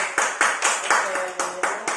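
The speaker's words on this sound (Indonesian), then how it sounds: "Luar biasa, tepuk tangan buat Bio." A class of students claps in a short burst of sharp, rhythmic claps, roughly eight in two seconds. A few voices sound faintly underneath.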